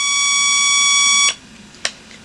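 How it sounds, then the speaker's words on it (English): A Citizen JC-11 alarm clock sounds a loud, steady electronic alarm tone for over a second, then stops abruptly, followed by a single sharp click. "Let's go ahead and set the alarm off"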